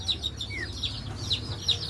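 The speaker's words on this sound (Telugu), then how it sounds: "ఇది మంచి జాతి పెట్ట ఇది దాని పిల్లలవి" A good-breed hen clucks softly among her chicks, which answer with repeated high, bright peeps scattered across a quiet farmyard background.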